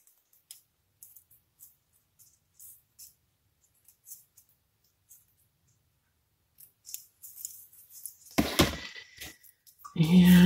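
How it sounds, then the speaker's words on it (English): Scissors cutting a small piece off a vintage quilt block: a series of faint, crisp snips spaced through the quiet, with louder handling and clatter near the end. "we're going to cut this little bit off here"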